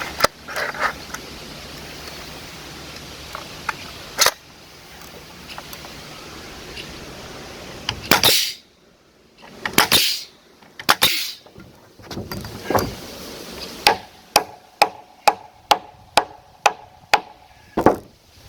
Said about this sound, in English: If the nail gun works, that is.